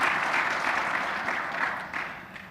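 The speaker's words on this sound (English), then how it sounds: "So another big round of applause to our panelists." Audience at an annual review event applauding panelists, a sustained round of clapping from a crowded room that holds strong and then slowly tapers.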